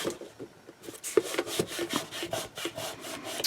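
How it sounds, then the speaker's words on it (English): A glued cardboard box is rubbed down by hand to burnish the seam, giving close, rhythmic scraping strokes in quick succession with no talk. "Really take some time and burnish it down so that glue gets moved around"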